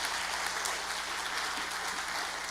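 Audience applause at a Rotary gathering, a steady wash of clapping from many hands that holds evenly at moderate loudness for a few seconds, with no talking over it.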